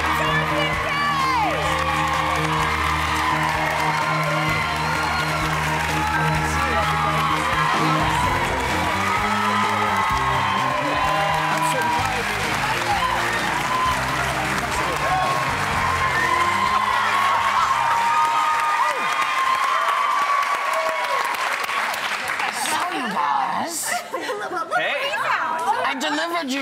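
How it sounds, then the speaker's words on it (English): Studio audience at a daytime talk show cheering, whooping and clapping loudly for an arriving guest, with music swelling beneath the crowd before it gives way to overlapping chatter and voices. "Let's give him a round of applause, Torsten!"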